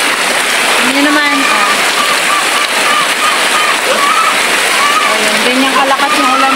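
Heavy rain pours steadily on a farm where piglets are kept, a dense continuous hiss and patter filling the whole stretch, with a voice talking over it throughout.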